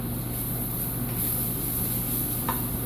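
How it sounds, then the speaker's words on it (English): Browned onions and garlic for homemade hot sauce frying in a pan, a dense, steady close sizzle with little change and only a faint stir near the end. "So I'm gonna cook it for maybe 2 more minutes, stirring."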